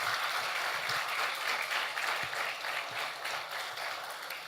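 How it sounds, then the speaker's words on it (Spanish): A church congregation applauds in praise of the Lord, a steady, fairly faint wash of many hands clapping together that stays even throughout. "Si denle un aplauso al Señor, déselo bien, porque la gloria es para Él."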